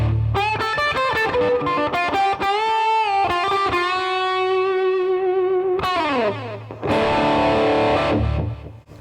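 An electric guitar plays through a hand-built BK Butler Tube Driver clone pedal, loud distorted notes and sustained chords ringing out with a brief gap before a final heavy strum fades.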